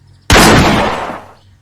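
A single loud gunshot cracks sharply while hunting treeshrews and green pigeons in a forest, then its report rolls and decays over about a second into quiet.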